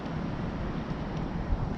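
Steady wind blowing across an open Las Vegas campground, a constant broadband rush buffeting the microphone with no breaks, moderately loud and alone.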